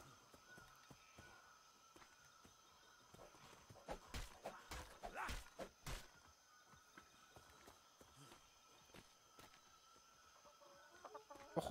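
A chicken clucks in the survival game Atlas, a short burst of faint clucking calls in the middle, set against quiet game ambience with a few soft thumps.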